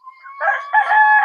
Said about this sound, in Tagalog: So ara ang duha ka mga alaga na akong manok.